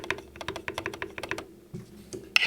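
Rapid typing on a Grid650 mechanical keyboard with Gateron Black Ink switches, a quick run of close, deep clacky keystrokes with a short pause near the end.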